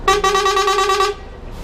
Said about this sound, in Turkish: gemi kornasının durumu bu şekilde